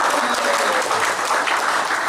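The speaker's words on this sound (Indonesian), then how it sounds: "Tepuk tangan sekali lagi." Loud, dense applause fills the hall at an installation ceremony for regional organization officers. The clapping is sustained and even throughout, with a faint crowd murmur beneath it.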